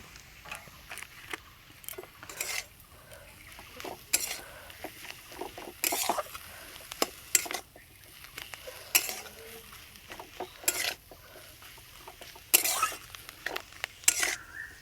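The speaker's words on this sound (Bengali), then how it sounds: "এরপর কিছুটা ধনে পাতা, চাট মশলা দিয়ে মিক্সড করে নেব।" Cauliflower chop filling mixed with coriander leaves and chaat masala in a pan, heard as intermittent scraping and clinking stirs at moderate distance over a faint sizzle, with no voices.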